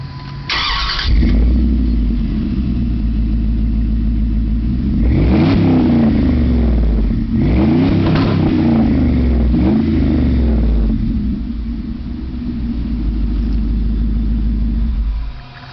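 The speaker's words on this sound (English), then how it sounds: "This is a 2005 Dodge Dakota with a Super 40 Flowmaster muffler," 2005 Dodge Dakota truck with a Super 40 Flowmaster muffler and dual side exit, starting up, then idling with a deep rumble and revving in several loud, close surges before settling back.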